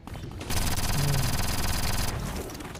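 Rapid automatic gunfire in the arena shooter T3 Arena, a loud sustained burst of shots lasting about a second and a half before cutting off, with no talk.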